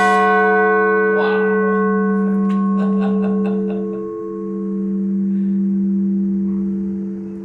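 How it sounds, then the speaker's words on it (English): A church tower bell at Our Saviour Lutheran Church is struck by hand, ringing loud and close with a long sustained metallic hum that swells slightly and slowly fades. "We can manually strike them to hear what they sound like."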